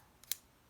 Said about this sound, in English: folded scissors